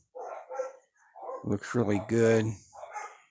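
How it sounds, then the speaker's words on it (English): Dogs bark somewhere up in the house, a few moderate, intermittent barks mixed in while someone talks close by. "Pardon my dogs. I don't know what they're barking at up there."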